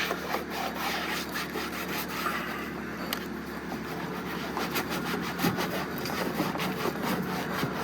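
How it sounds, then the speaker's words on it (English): A brush scrubs the interior panels of a car during detailing, making a continuous, rhythmic scratchy rubbing with quick back-and-forth strokes, close by and alone. "Use a brush getting the tight spaces."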